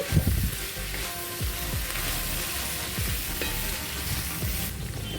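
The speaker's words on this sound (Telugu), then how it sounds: "చిక్కుడుకాయలని ఆయిల్లో బాగా ఫ్రై చేసుకోవాలండి" Broad beans and potatoes fry in oil with turmeric, a steady close sizzle running throughout with occasional stirring scrapes and no voices.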